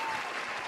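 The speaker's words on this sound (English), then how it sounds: "Just let the applause do the talking." A studio audience breaks into steady, dense applause, a brief burst of clapping at close range filling the whole moment.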